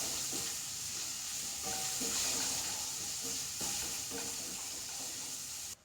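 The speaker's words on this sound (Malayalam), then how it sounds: "അപ്പം അതിൻ്റെ ഒപ്പം തന്നെ നമുക്ക് ഈ സവാളയും കൂടി അങ്ങോട്ട് ഇട്ട് കൊടുക്കാം" Onions and garlic sautéing in a pan for dal tadka, a quiet continuous sizzle with repeated short scraping stirs at an uneven pace.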